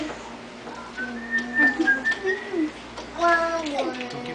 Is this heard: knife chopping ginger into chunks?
no